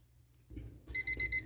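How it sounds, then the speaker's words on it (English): A kitchen timer goes off during pressure canning of butter beans, four sharp electronic beeps in quick succession that follow a low hum and some faint rustling. "our timer is off"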